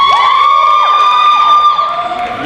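Audience at a university student association stand-up comedy show whooping and cheering loudly, shrill shouts and whistles rising over scattered applause, then easing slightly toward the end.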